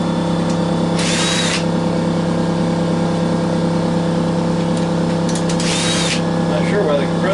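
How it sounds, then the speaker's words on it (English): Air compressor motor running in a workshop where a flat screen TV and CRT monitor are being scrapped, a steady loud hum under speech and tool sounds. "Not sure why the compressor kicked in."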